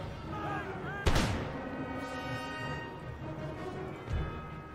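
Musket volley from line infantry in Empire Total War, fighting Spanish troops: one sharp, loud crack of massed fire that trails into a rumbling decay, then a fainter shot a few seconds later over steady battlefield ambience.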